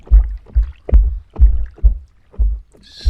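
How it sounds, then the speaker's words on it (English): River water slapping against the front of a small craft on the River Stour in Kent, rhythmic low thuds roughly every half second, close and loud. "Really hear the water on the boat now, on the craft at the front,"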